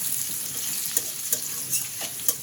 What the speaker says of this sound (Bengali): পেঁয়াজ কুচিটাকে ভেজে নেব